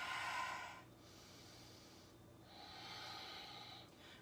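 Deep breathing held during a yoga balance pose, two long airy breaths, a strong inhale then a slower exhale after a short pause, close and alone with no talking.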